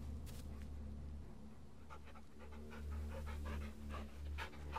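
A ghost dog in the Blair Witch video game pants steadily and close, a rapid rhythmic breathing that continues for several seconds alone.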